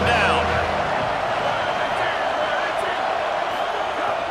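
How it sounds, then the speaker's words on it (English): A dense stadium crowd roars steadily throughout in College Football 27, Texas A&M against Texas, a broad wash of noise with faint whistle-like tones on top and no clear voices standing out. "Decibels rising as the crowd gets behind this defense on third down"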